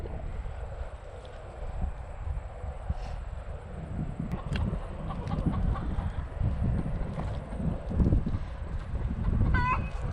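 Chickens cluck faintly while scratching through mulch beneath fruit trees, giving a steady rustling, scuffing texture with scattered clucks and small rattles building slightly louder toward the end.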